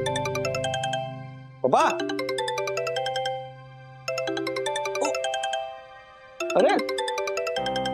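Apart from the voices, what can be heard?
phone ringing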